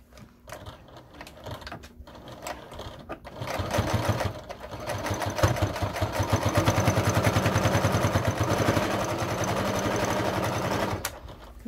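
A sewing machine stitches a camera or guitar strap about an eighth of an inch from the edge, starting with a few short bursts before running in a loud, steady motorized whir for several seconds, then stopping.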